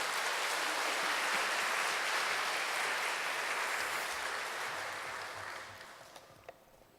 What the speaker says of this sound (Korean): 여러분 박수로 환영하겠습니다